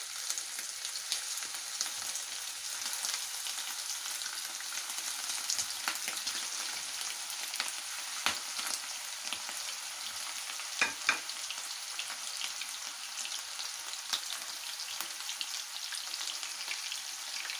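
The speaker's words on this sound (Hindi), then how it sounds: "अब इसमें मैं ये कबाब डाल के इसको फ्राई कर लेती हूँ" Kebabs fry in hot oil over a medium flame, a soft, even sizzle that runs steadily throughout with a few faint pops and spatters.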